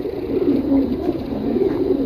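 Pigeons in a pigeon loft in Mirpur give soft, low, continuous cooing that murmurs steadily at moderate volume nearby, with no voices over it.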